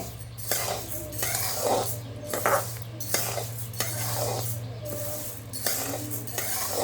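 Jowar grain dry-roasting in a pan for thalipeeth bhajani, stirred with a utensil in steady repeated scrapes and soft rattles over a continuous low hum, close and moderately loud with no talking.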